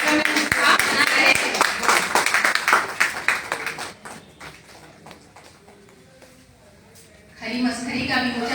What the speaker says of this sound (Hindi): आप लोग तालियां बजाते हैं ताकि कार्यक्रम में उत्साह बना रहे।